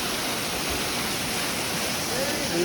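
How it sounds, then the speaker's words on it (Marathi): A steady, dense roar of falling water, loud and continuous like a nearby waterfall, with no pauses. "छान असा वॉटरफॉल आहे इकडे"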